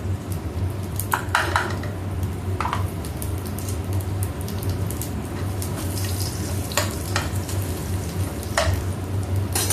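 Steady sizzling and crackling of mustard seeds and garlic frying in hot oil, with occasional sharp pops and a utensil scraping now and then.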